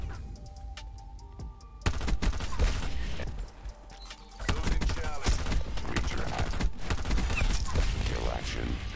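Rapid M16 gunfire cracks through a wall in Call of Duty Black Ops 4, with loud bursts of shots, mechanical clicks and some talking underneath.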